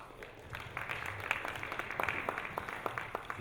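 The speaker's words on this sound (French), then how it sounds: "Je pense que cette réponse peut s'applaudir," Audience at a 2024 conference panel applauding, a moderate scattering of individual claps building into steady applause, somewhat distant in a hall.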